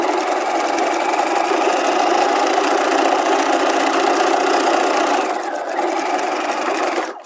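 A sewing machine runs in one long, loud, continuous hum while stay stitching a garment waistline at half an inch for an in-seam pocket project, with a slight dip in speed near the end before it stops.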